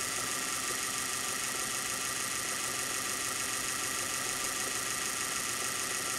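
A rewound 750W Bosch electric motor spinning at 2600 RPM, a dense, steady high whine and hum that stays constant and unbroken from start to finish, with no speech.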